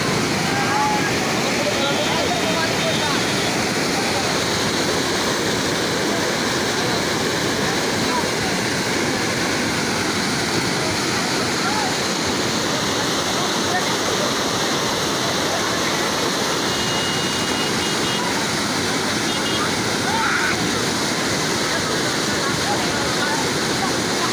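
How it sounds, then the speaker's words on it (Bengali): Steady rushing rainwater stream fills the whole stretch, a broad continuous roar like a fast stream in flow, with faint voices now and then beneath it. "পানির স্রোত, সেই স্রোত।"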